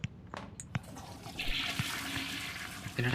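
Toilet flushing in the horror video game The Baby in Yellow: a sustained rushing gush of water runs for about two seconds after a few short clicks and knocks, fairly loud and close.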